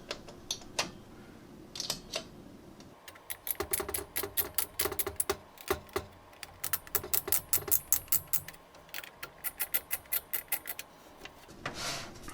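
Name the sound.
screws being started in PC build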